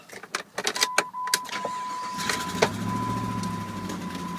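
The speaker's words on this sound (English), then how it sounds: "Start it up here and see what happens." A 1999–2004 Jeep Grand Cherokee WJ with an idle-surging problem and an exhaust leak cranks with a series of sharp clicks and whirs, then catches and settles into a steady, close, rumbling idle, with no talk over it.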